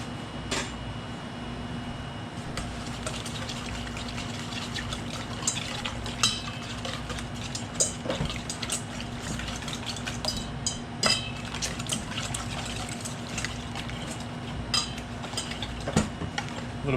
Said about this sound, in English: then I'm going to whisk it up